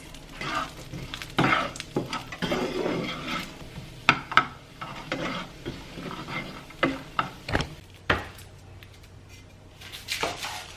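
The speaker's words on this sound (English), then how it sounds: "We're just going to be doing this real carefully, just browning the pecans" Pecans being browned in a pan: irregular scraping and stirring strokes of a utensil against the pan over a faint sizzle, close and fairly loud, with no talking.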